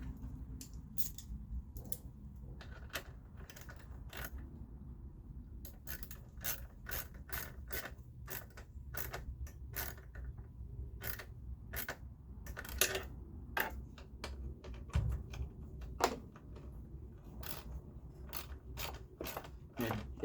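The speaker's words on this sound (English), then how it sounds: "Tighten the bolts on the bracket at least." Quick ratchet clicking as bolts on an oil catch can bracket are tightened on a Jeep Wrangler with a 3.6L Pentastar, close crisp bursts of pawl ticks repeating throughout over a faint low hum.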